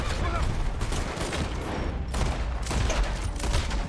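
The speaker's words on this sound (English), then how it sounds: "I like actually shooting these enemies on horseback" Gunfire from a Western-style shooter, Red Dead Online, aimed at enemies on horseback: dense, continuous rattling shots with bursts through most of the stretch, loud and close, a brief lull near the middle.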